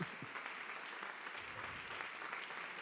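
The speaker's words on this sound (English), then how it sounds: "A big applause." An audience at an evening event on peace and social business gives a faint, steady round of applause, heard from a distance with no talk over it.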